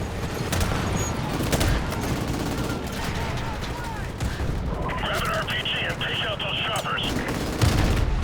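Dense, continuous gunfire from modern military weapons in the Call of Duty: Modern Warfare Remastered video game, with rapid bursts and booming shots filling a loud battlefield while voices talk over the shooting.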